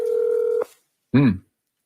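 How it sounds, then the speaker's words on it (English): A telephone dial tone holds steady and clear for just over half a second, then cuts off; after a short gap a brief voice follows. "So he's literally dialing him on the phone."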